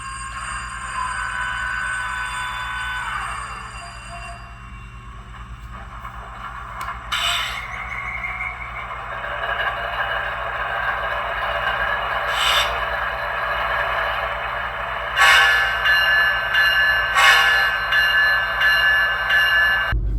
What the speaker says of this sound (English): With that, you should be ready to go ahead and run some trains.